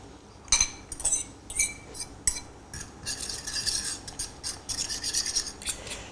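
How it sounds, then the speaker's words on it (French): Eggs being scrambled in an unwashed wok, a utensil scraping and rasping against the metal in repeated quick strokes with light clinks, close and fairly loud, no talking. "sans nettoyer le wok, je vais faire cuire mon omelette, façon plutôt d'ailleurs œuf brouillé"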